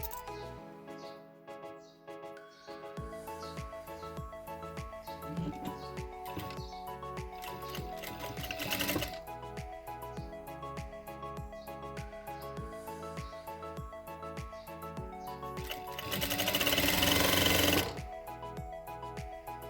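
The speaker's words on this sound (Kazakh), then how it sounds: "Енді бәрін бірге қосып тігіп аламыз." A sewing machine stitches fabric pieces together with a rapid, regular mechanical rhythm, close and fairly quiet, its pace rising briefly in louder bursts near the middle and toward the end.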